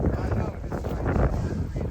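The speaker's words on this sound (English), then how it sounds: "How do you like this wind?" Gusty wind buffeting a microphone outdoors on a New England waterfront near boats, a steady low roar filling the whole clip.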